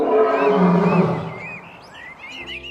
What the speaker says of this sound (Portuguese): o rugido do leão é um dos mais poderosos entre os mamíferos terrestres